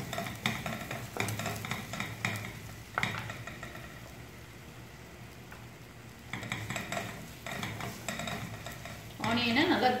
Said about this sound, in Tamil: இதே கொஞ்சம் ஆயில்ல கொஞ்சம் ஆனியன் வந்து ஃப்ரை பண்ணிக்கலாங்க